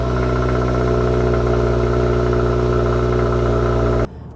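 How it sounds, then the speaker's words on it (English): A Subaru WRX TR (VB generation) idles loudly after a cold start, its exhaust giving a steady, deep, throbbing drone close by that runs unbroken for about four seconds before cutting off abruptly. "This car is surprisingly loud at a cold start."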